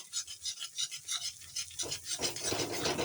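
Chow mein noodles with mixed vegetables being stirred in a pan, a rhythmic series of close scraping and rubbing strokes, about a dozen in quick succession, growing denser toward the end, with no talk.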